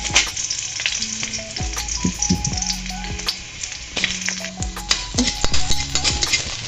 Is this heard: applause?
no